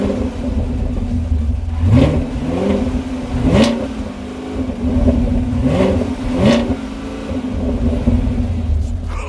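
A Chevrolet Camaro in sport mode, exhaust partially open, revs repeatedly in snowy conditions: several loud, close, rumbling throttle blips rise and fall over a steady idle.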